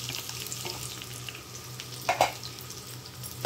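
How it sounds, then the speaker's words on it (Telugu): Chopped onions fry in hot oil in a pan, a continuous close sizzle with occasional louder pops and clinks of a spoon stirring, no one speaking. "ఆనియన్స్ అనేవి గోల్డెన్ బ్రౌన్ వచ్చే వరకు మంచిగా ఫ్రై చేసుకోవాలి"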